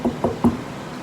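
Three quick knocks on a door, close and moderately loud, in a short rapping burst with nothing else around them.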